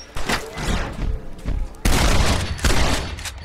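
Bursts of gunfire from Red Dead Redemption, several rapid volleys of shots in quick succession, loud and close, alone without talk.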